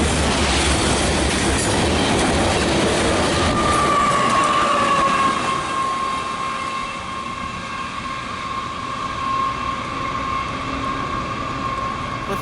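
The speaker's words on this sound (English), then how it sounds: "I'm not sure which coal train this is exactly" A heavy coal train on the CN railway rumbles past at close range, wheels clattering steadily, with a sustained metallic squeal emerging partway through and lingering.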